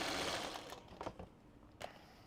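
Sewing machine chain stitching quilt pieces together, heard as a quiet steady whir with a few brief louder bursts, alone with no talk.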